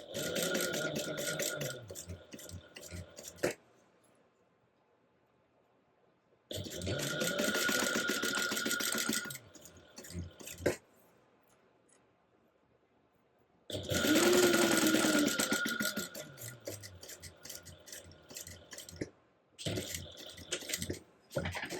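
Sewing machine basting a zipper to a fabric pocket piece at a one-eighth-inch seam, running in three loud, steady bursts separated by pauses, with a short fourth run at the end.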